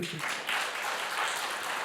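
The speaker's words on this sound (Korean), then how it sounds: "박수 한번 쳐드려야죠" A church congregation applauds during a Sunday worship service in Jeju, a steady wash of clapping throughout that swells slightly partway through, with no voices standing out.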